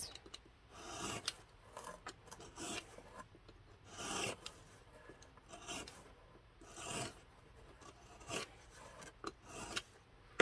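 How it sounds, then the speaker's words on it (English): A knife trims excess paper off a 1:12 scale dollhouse TV kit, making faint, close scraping and rasping strokes in irregular bursts over quiet background. "then you can take your knife and cut it off with the excess"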